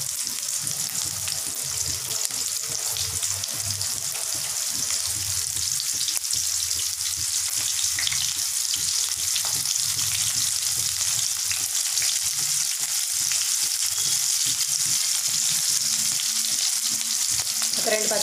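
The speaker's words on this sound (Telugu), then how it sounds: "ఆయిల్ వేడైంది, ఉల్లిపాయలు వేస్తాం." Sliced onions frying in hot oil for a fish roe fry, a steady loud sizzle with crackling throughout, broken by faint scraping stirs, with no talking.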